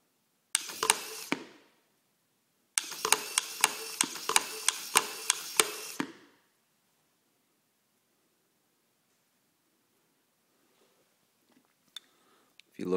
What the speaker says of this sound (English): Try to turn it on. And it turns itself off.